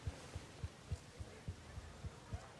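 A steady heartbeat sound effect from the video game Life is Strange Reunion, about ten low, soft thumps at an even pulse over a faint hum, with no voices.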